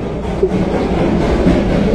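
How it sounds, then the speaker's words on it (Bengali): Loud, steady rumble of two trains rolling past one after another at close range near Ghum station, a continuous low roar with faint rhythmic clatter and no speech. "পুরো পরপর 2টো ট্রেন"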